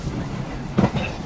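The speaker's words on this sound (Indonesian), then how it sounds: "masih di kereta" Passenger train on an overnight run toward Surabaya, heard from inside the carriage as a low steady rumble with a brief louder knock partway through, close and continuous.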